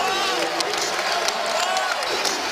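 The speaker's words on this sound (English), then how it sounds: "They've got a charged up crowd behind them as well." A charged-up crowd at a Boston College home basketball game against Duke roars and cheers in a steady, dense wash of noise throughout, with no individual voices standing out.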